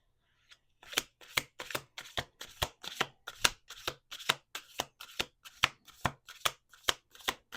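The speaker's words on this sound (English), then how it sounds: "Let's do 2 more shuffles." Tarot cards being riffle-shuffled by hand close up, a steady run of about twenty crisp, rapid flutters in even rhythm, loud and alone with no talk.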